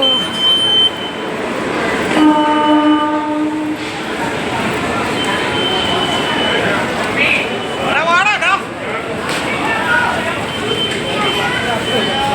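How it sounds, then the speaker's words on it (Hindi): Trains at Varanasi (Banaras) railway station: a loud, busy rail soundscape with rumbling carriages and a long horn blast, with a voice speaking over the station noise. "ये है बनारस रेलवे स्टेशन"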